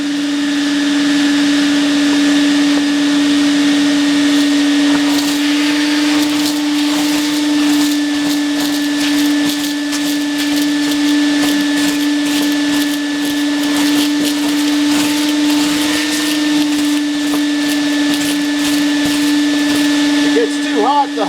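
A vacuum with two motors draws soot and crud out of a wood boiler's tubes and door, a loud steady whine and roar holding a strong hum throughout, rattles and scrapes of debris passing through the hose.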